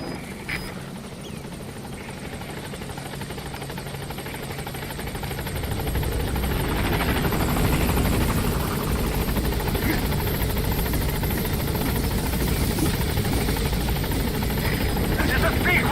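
A support helicopter in Metal Gear Solid V arrives at a landing zone, its rotor thrum building from moderate to loud and steady after a few seconds.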